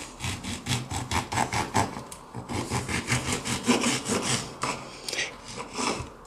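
A knife saws through an orange to halve it, giving a close, rhythmic rasping of back-and-forth strokes through peel and flesh, with a brief pause midway and no voices.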